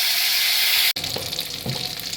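Ginger, cumin, coriander and tomato paste drop into hot oil for a jackfruit kofta curry masala; a bright steady sizzle breaks off abruptly for an instant, then resumes slightly softer with light stirring scrapes.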